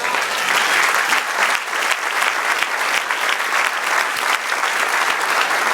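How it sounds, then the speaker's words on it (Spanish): A church congregation claps steadily and densely at the close of a sermon, a continuous wash of many hands with no voices over it. "Y el otro aplauso al Señor."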